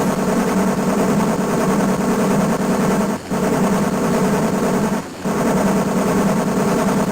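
Machine gun fire from the 1991 TAD Corp arcade shooter Blood Bros.: a loud, continuous, dense rattling burst that runs almost unbroken, with two brief dips in the stream.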